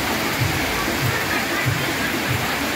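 Rain pours on Loi Kroh Road in Chiang Mai during the rainy season, a constant broad wash of falling water with faint rhythmic thumps underneath.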